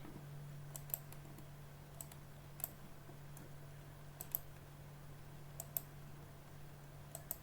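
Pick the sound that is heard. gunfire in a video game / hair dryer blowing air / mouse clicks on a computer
mouse clicks on a computer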